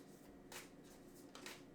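A deck of oracle cards shuffled by hand close up, giving a couple of soft, brief riffling bursts over a quiet room.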